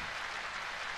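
Applause in a video game scene after characters finish playing music together, a faint, even wash of clapping that lasts the whole moment with no voices over it.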